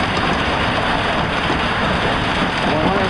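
Hail pounds a farm chicken coop in a dense, steady roar of impacts that fills the space, loud and unbroken throughout, with a faint voice briefly mixed in.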